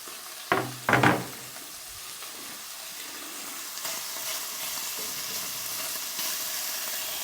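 Bacon hits a preheated Dutch oven with two sharp thuds, then settles into a faint, steady sizzling hiss that stays low and even throughout.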